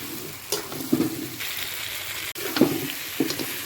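Chicken curry with fried potatoes being stirred in a pan, a few scraping stirs with soft sizzling under a steady background, no talk.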